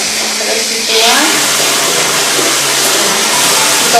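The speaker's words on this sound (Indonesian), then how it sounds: "Ini adalah proses pencucian. Disaring cikerannya, terus dituang," Water pours and splashes steadily while turmeric is washed and strained for herbal jamu, a continuous close rushing with a brief louder surge near the start.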